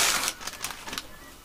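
Plastic bags crinkle and rustle as they are opened, a loud opening crackle followed by several short, sharp rustles close by, fading at the end.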